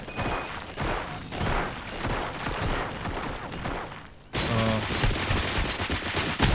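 Rapid, dense gunfire in the game Robocop: Rogue City, a continuous burst of loud close shots with mechanical clatter, briefly cut and then resuming.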